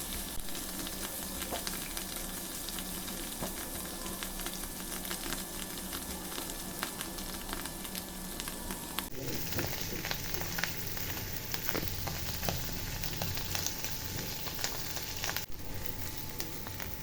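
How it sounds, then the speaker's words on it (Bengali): Mushrooms with garlic fry in a pan, giving a steady, close sizzle with small crackles throughout. Partway through, the hiss shifts briefly in tone, then settles back. Nobody speaks. "আমি 4-5 মিনিট মাশরুম ফ্রাই করে নিয়ে নামিয়ে ফেলছি"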